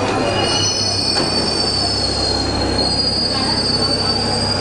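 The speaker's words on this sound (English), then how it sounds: "we bid a fond farewell to the number 2 metro" Paris Metro line 2 train wheels squeal loudly and continuously against the rails, a sustained high metallic screech over the rumble of the moving carriage.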